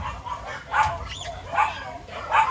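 Dog being chased, giving several short yelping barks and whimpers spaced irregularly, fairly close, over faint background noise.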